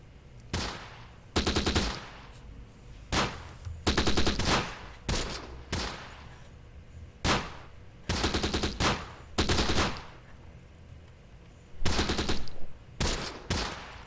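Bursts of machine gun fire from American units in the WWII combat game Close Combat: The Bloody First crackle in repeated rapid strings, each lasting about a second, loud and close, separated by short pauses.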